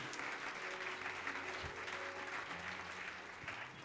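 A church congregation at a fasting and prayer service bursts into sustained applause, a steady wash of clapping hands filling the room with faint voices underneath.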